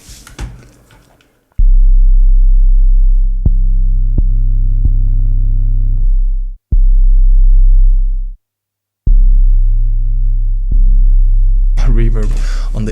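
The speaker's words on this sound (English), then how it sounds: "Reverb on the 808." Deep sustained 808 bass notes with a reverb effect in Ableton boom loudly in long held tones, cutting off into brief silences between hits, with a short stretch of other sound at the start and end.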